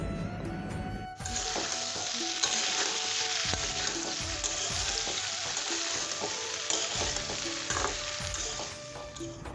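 Okra lightly frying in a pan, a dense, bright sizzle that starts abruptly and holds steady, with spatula scrapes and stirring knocks scattered throughout.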